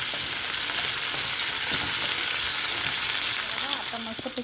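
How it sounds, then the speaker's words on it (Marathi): Cauliflower and potato pieces roast in a pan with loud, continuous sizzling and crackle, broken by scraping and clinks as they are turned over and over, the hiss easing slightly near the end. "आता चांगलं आपण भाजायला ठेवूया छान असं आणि करतो त्याला आपण वरखाली वरखाली करतच राहूया"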